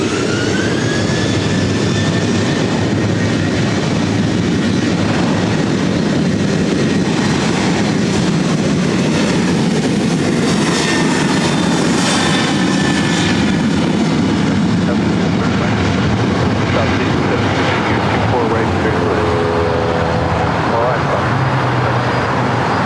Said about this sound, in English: 4838 taking off to San Jose, California on a 737-800